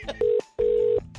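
A telephone is dialed for a radio prank call, giving two steady touch-tone beeps, a short one and then a longer one, with faint background noise between them.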